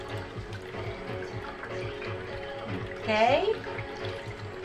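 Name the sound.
water while hand washing white knickers with detergent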